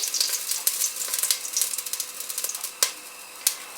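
Meatballs frying in olive oil for albondigas in almond sauce, a steady crackling sizzle with rapid spitting pops and a couple of sharper clicks, close and fairly loud.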